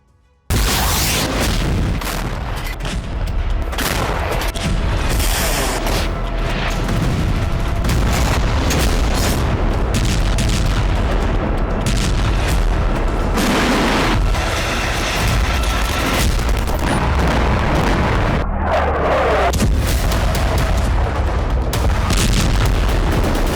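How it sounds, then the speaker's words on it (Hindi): Heavy explosions and artillery fire from Ukrainian strikes on Russian territory in the Kursk region, a dense, continuous roar of booms and blasts, loud and sustained, with no voices over it. "यूक्रेनी फौज रूसी जमीन पर धमाके कर रही है।"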